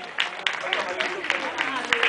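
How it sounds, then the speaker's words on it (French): Applause from wedding guests, a dense steady patter of many hands clapping in a reverberant room, sustained and fairly loud throughout. "Je voudrais qu'on applaudisse les deux familles des mariés"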